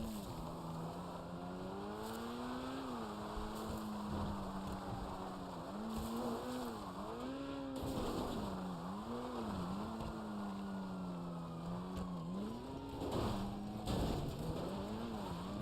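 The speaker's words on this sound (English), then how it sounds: "Great thing about this car is the acceleration." A car engine in GTA Online revs and accelerates repeatedly, its pitch rising and falling through gear changes, with brief tire squeals and skids mixed into the continuous in-game engine drone.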